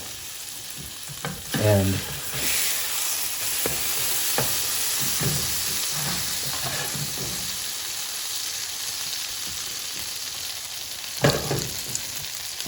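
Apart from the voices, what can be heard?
French toast frying in butter in a pan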